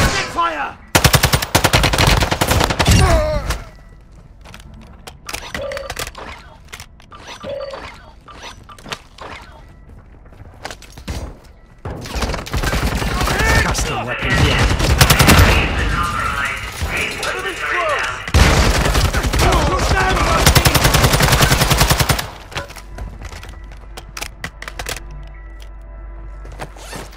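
Bursts of automatic and single-shot gunfire from the video game Call of Duty: Modern Warfare II, loud and close, coming in several long volleys separated by quieter gaps, with brief shouted voices mixed in.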